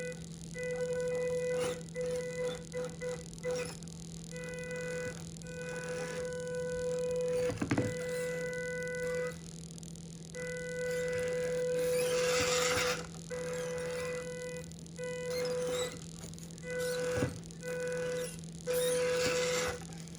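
A WPL C64-1 RC crawler's electric motor and gearbox whine in short proportional-throttle bursts of varying length, separated by brief pauses, close and fairly quiet.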